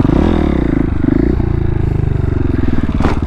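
A dirt-style stunt motorcycle idles and lugs at near-walking pace while the rider clutches in and leans, giving a loud, close, steady low engine chug with some mechanical clatter and a small rev near the end.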